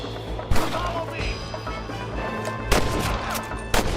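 Gunfire in the Red Dead Redemption video game on PS3, where three sharp shots ring out at separate moments over a busy bed of background game sounds.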